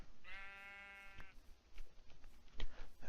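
A hill sheep in the Minecraft mod TerraFirmaCraft gives a single clear, wavering bleat, close and fairly loud, followed by faint game clicks and soft background sounds.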